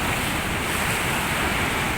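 Ocean surf at Pelabuhan Ratu roars in a dense, continuous wash of breaking waves, loud and close with constant wind-like noise and no voices.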